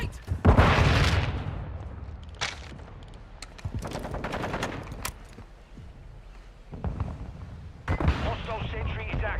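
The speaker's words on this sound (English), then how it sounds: "Throwing flash grenade!" A flash grenade going off in a video game firefight, loud bursts and booms among rapid gunfire volleys, with game voices calling out over the noise.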